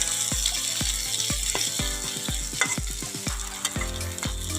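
Fish frying in oil in a pan, a steady hot sizzle broken by a run of sharp metallic scrapes and knocks from stirring, close and fairly loud with no voices.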